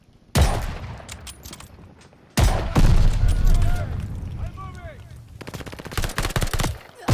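Automatic fire from a PPSh submachine gun with no attachments in the video game Call of Duty: Vanguard, loud close bursts of rapid shots separated by short pauses, with faint in-game voices in the background.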